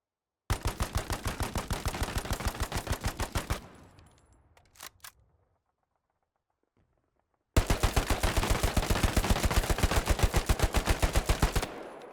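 Two automatic rifles from the World War II shooter Hell Let Loose, a BAR and an StG, fire in long sustained bursts. Rapid, evenly spaced loud shots run for about three seconds, a short silence follows, and then a second burst of about four seconds.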